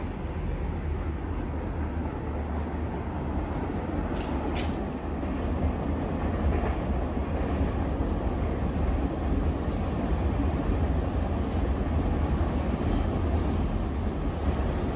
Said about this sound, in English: See if you can see the train from this window.